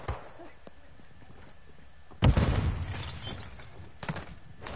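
Gunfire in the shooter game Warzone: scattered shots over a low background, then a loud burst of firing with an impact roughly midway, followed by further shots, with voices mixed in.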